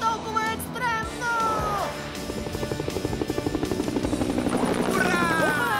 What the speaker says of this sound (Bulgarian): Следва бързия хеликоптер!